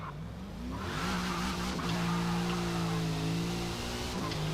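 A Mazda RX7 drag build in Forza Motorsport launches off the line, its rotary engine holding a loud, steady high-revving drone that climbs slightly with faint tire noise underneath.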